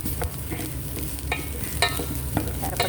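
Fish fries in a pan until brown for sweet and sour fish, a constant close sizzle dotted with sharp clicks and scrapes as the pieces are stirred and turned.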